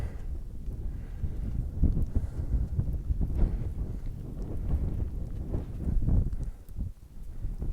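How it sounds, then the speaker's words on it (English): Strong wind buffets the microphone on the exposed Cheviot Border ridge, a continuous low roaring rumble with gusty surges throughout, loud and close. "It's certainly very windy."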